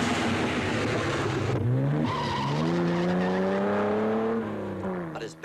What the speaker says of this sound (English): The Porsche is frantically trying to make up time lost further down.